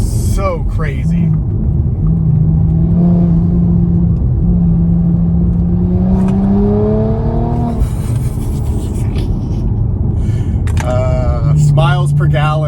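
A tuned Audi B9 S5 with an 034 Motorsport Stage 1 and transmission tune pulls uphill, its engine drone climbing in pitch as it accelerates under someone talking over the cabin noise.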